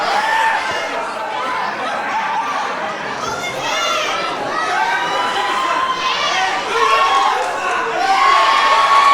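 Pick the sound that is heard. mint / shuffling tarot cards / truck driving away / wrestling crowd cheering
wrestling crowd cheering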